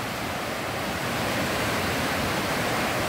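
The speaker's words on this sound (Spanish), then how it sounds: "Qué hermoso se escucha el río" A swollen river rushes after a storm, a dense, constant roar of flowing water that holds steady and loud throughout with no voices.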